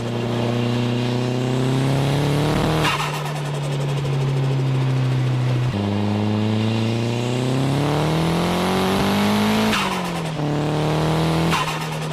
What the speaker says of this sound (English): Yeah, you can really hear the screamer in this.